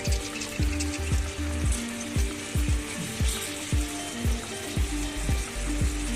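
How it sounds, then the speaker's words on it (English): Green grape pickle with sugar bubbling in a pan, giving a busy sizzling hiss punctuated by a regular series of soft low thumps, close and fairly loud, with no voices. "Now as the pickle boils, as the grapes boil, we need to mix the sugar along with the rest of the ingredients."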